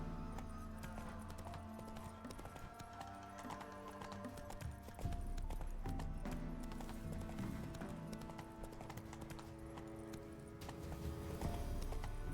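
Horse hooves clip-clop at a steady trotting rhythm while riding in The Witcher 3, the repeated hoofbeats fairly quiet and mixed with game background sound, with no talking.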